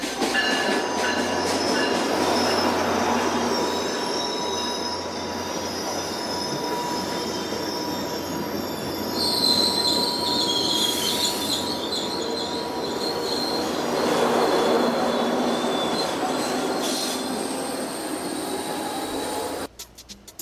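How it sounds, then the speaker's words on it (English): A train rolls into a station in Ogden, Utah, steadily with a loud rumble, high metallic wheel squeals rising at times, and rail clatter before it slows and stops near the end. "Our train has finally come in."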